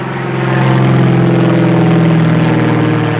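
A loud, droning propeller-plane engine hums steadily up close, with a constant low throb and no voices.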